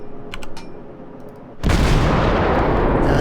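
Heavy naval gunfire in World of Warships while playing a St. Louis cruiser, a quieter engine-like rumble with a few ticks giving way to a sudden loud sustained roaring blast that fills the last half of the moment.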